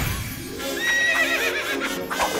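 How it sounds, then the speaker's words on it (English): A hyper-realistic ride-on toy horse in a Total Dramarama cartoon gives a loud, close, wavering whinny that rises and trembles for a couple of seconds, with a faint hint of hoof clatter beneath. "A hyper-realistic toy horse that you can ride!"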